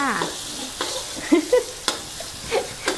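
Garlic sizzles and crackles in hot oil in a pan, with sharp spatters from a wet spatula and scraping stirs, bursts of louder popping between quieter frying.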